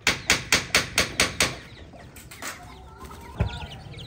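A hen with her baby chicks, kept at home and brought outdoors, gives a quick, evenly spaced run of about seven sharp clucks, followed by softer scattered rustling and chick sounds at close range.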